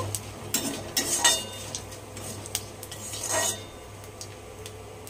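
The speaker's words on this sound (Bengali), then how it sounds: "এতেই অ্যাড করে দিচ্ছি অল্প একটু জিরে। ব্যাস, মশলাটাকে একটু হালকা করে ভেজে নেব।" Cardamom, cinnamon and cumin lightly frying in a pan, a faint low sizzle beneath clinks and scrapes of a metal spoon against the pan, with several sharper knocks spread across the stretch.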